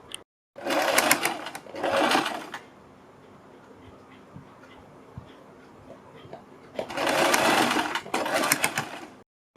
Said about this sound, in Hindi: पहले एक साइड से सिलेंगे।